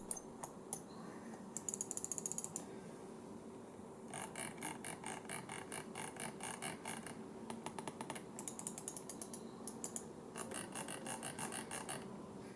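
Bursts of crisp clicking from a Razer Mamba HyperFlux wireless mouse, clustered in quick rattling runs with short pauses between, close and fairly quiet over a faint steady background hiss.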